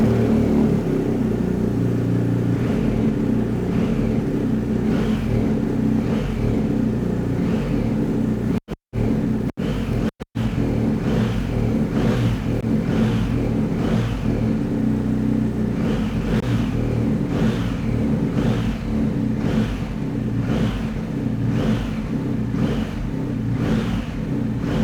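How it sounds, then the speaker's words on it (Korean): A 2020 BMW R1250GS Adventure motorcycle fitted with an Akrapovic muffler idles with a deep, loud exhaust burble and is blipped repeatedly, a series of sharp revs rising and falling in rhythm, with two brief dropouts partway through. "일단 아크라포비 머플러의 배기 사운드 한번 들어보고요"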